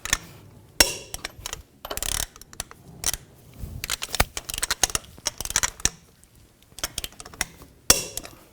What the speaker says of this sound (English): Now I'm going to torque the lug nuts to 140 foot-pounds in a cross pattern to tighten the wheel down